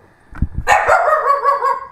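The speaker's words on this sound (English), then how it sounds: "Dogs are barking. Somebody's here." Several dogs bark in a sharp burst, then a steady run of loud, overlapping barking and yelping close by indoors, with no talking.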